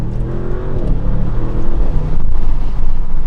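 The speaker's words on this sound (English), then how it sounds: "those are some of the most violent dual clutch downshifts that I've felt" An Audi RS6 Avant V8 engine drones loudly and then blips up sharply as the dual-clutch gearbox downshifts violently, heard from inside the cabin.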